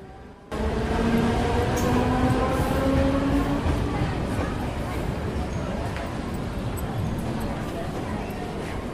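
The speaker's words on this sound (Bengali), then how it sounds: "ওই তো ট্রেন চলে আসছে" A train pulls into a station with a steady, loud rumble that starts abruptly and carries on throughout, marked by drawn-out tonal squeals of wheels or brakes.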